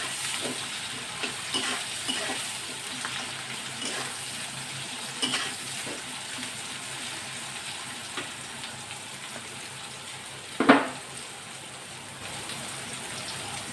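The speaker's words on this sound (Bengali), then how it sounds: "এই তেলেই আমি রান্না করব। এখন আমি এতে একটু পেঁয়াজ বেশি করে দিয়ে দেবো।" Plenty of chopped onion frying in cooking oil, a continuous crackling sizzle with stirring scrapes, close and steady, with one louder clatter near the end and no talking.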